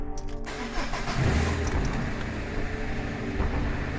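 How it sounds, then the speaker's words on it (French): A Peugeot 307 2.0 HDI diesel engine with a misfire fault code on cylinder 4 cranks and catches, then settles into a loud, steady running rumble close by, with no voices. "Et ensuite, on va démarrer la voiture."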